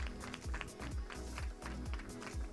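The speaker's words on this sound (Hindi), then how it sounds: "अतुल जी के लिए जोरदार तालियां हो जाए." An audience gives actor Atul a loud, sustained round of applause at The Kashmir Files event, with dense, steady clapping throughout.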